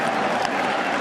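A baseball stadium crowd at a Tigers–Red Sox 2013 ALCS playoff game applauds and cheers in a dense, loud, continuous roar that fills the whole moment.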